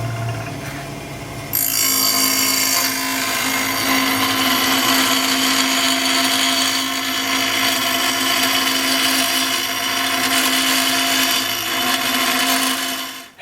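A power tool grinds along the edges of laser-cut header flanges for a Hemi-powered drag boat, a loud, sustained whine that starts up after a short lower hum and holds steady.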